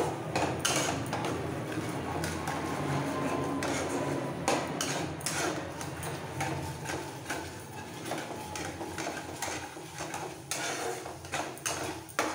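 Matar methi malai masala being sautéed in a pan, with soft sizzling under repeated clinks and scrapes of a spatula against metal, fairly quiet and irregular.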